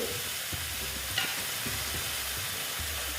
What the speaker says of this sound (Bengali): এটা ভালো মতো মিক্স করার জন্য জলটা দিলাম আমি